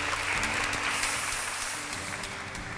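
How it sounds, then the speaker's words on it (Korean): Audience applause at the close of a lecture, a steady wash of clapping heard from a distance, moderately faint and fading slightly toward the end. "다시 한번 큰 박수 부탁드리겠습니다"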